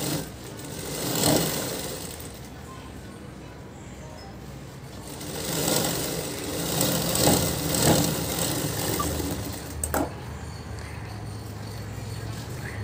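A sewing machine stitches a blouse sleeve in short bursts of rapid, rattling needle clatter that rise and fall, with someone talking in Marathi over the stitching and a sharp click near the end.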